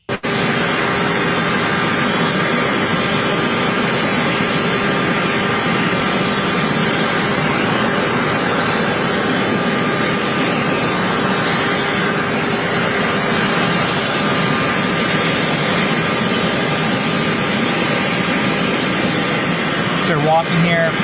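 A helicopter engine runs steadily and loud throughout, a continuous dense roar with a faint whine, as Donald Trump gets off with Saquon Barkley on arrival back in D.C.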